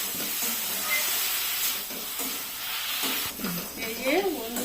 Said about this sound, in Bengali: এই যে আমি ভালো করে এবারে নেড়ে নিচ্ছি, ভালো করে একদম মশলাটা ভেজে তারপরে আমি নামিয়ে নেব